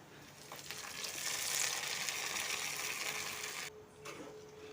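Hot tempering oil sizzling as it is poured into an eggplant curry, a steady bright crackle that swells, then cuts off abruptly and resumes faintly, heard alone without talk.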